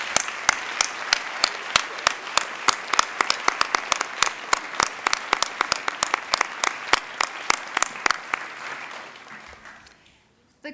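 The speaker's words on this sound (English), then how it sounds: "Please honor these fine judges with a round of applause yet again" Audience applause for the judges at a youth pageant, with many individual claps standing out sharply over a dense, sustained wash of clapping. The applause fades away near the end.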